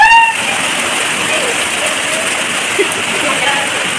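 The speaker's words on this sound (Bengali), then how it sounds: "দেখো বন্ধুরা কেমন জোরে বৃষ্টি হচ্ছে দেখেছো" Heavy rain pouring down outdoors, a loud, dense and steady wash of falling water with splattering on surfaces and a brief voice at the very start.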